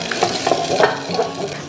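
Sautéed garlic, onion and tomatoes are stirred in a pan over a soft sizzle. A spatula scrapes and taps in short, close strokes.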